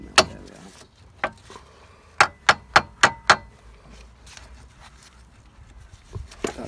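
Metal hammer blows on a car wheel hub being knocked free of a bolt during an Astra H front shock absorber replacement: scattered single taps, then a quick run of five sharp, loud strikes, ringing close by.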